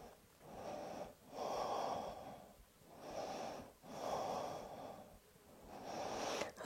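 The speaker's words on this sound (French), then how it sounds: "On fait 3 respirations encore." Slow, deep breaths drawn in and let out during a yoga arm-strengthening hold, several full cycles in a steady rhythm, close and fairly soft, with no talking.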